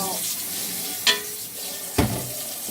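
Sea moss is washed by hand in water, with soft continuous splashing and two sharper sloshes as the pieces are moved and checked.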